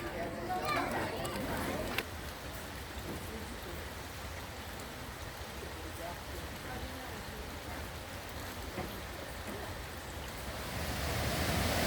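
Rushing water at Kuang Si waterfall near Luang Prabang, Laos, a steady broadband roar filling the whole clip, swelling slightly louder toward the end.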